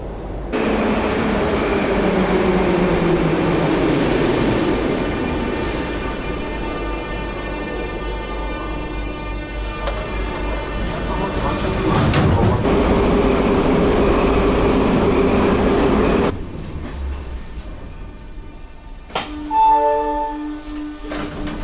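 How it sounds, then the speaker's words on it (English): A Dnipro metro train in Ukraine rumbles and rolls along with a steady roar, then slows with screeching wheels and a brief electronic chime near the end. "Well, that was the shortest metro in the entire world"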